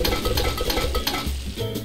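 Clattering dishes, pots and cutlery ring out in a busy run of clinks and scrapes during dishwashing in the cooking game Cook, Serve, Delicious, with no talk heard.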